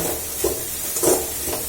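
Spices for oggarane tempering sizzle in hot oil, a steady soft hiss with a couple of brief louder crackling bursts as ingredients hit the pan, close and alone.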